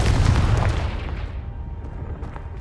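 Confringo fire spell blast from Hogwarts Legacy, cast at a piled-up blockage over a stairwell: a loud, booming explosive burst up front that decays into a long, rumbling tail.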